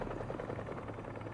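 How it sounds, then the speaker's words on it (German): A helicopter rotor in the video game Spider-Man 2 throbs in a steady, low, pulsing drone that holds at an even level throughout, with no talking. "Ein Hubschrauberrotor."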